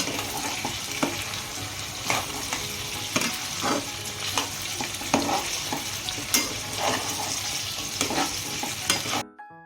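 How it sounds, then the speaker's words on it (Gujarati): Tomatoes frying with onions in a pan for sorghum upma, steady loud sizzling with repeated scraping stirs at a brisk rhythm, close up. "આમાં ટામેટાં પણ નાખી દેવાના એટલે સીઝીને એકદમ તૈયાર થઈ જશે."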